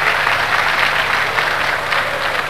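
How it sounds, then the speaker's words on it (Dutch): Steady applause from a crowd of spectators at a 1983 kyokushin karate tournament in Alkmaar, a dense, continuous clapping that holds at an even level throughout, with no speech over it. "Ja, een applausje is het wel waard, hoor."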